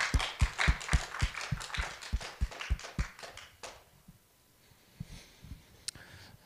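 Audience claps welcome a speaker at a Creation vs. Evolution evening talk, a quick rhythmic run of hand claps that fades after a few seconds into a few scattered, softer claps.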